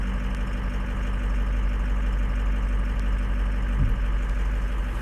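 A turbocharged diesel engine idles in gear with cylinder seven dropping out, making a loud, steady, low drone that runs throughout without any voices.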